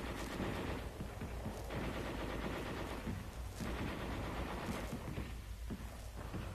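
Heavy machine guns fire in long, sustained bursts during an infantry attack exercise from 1944, a continuous rattling roar with slight surges, fairly distant and muffled.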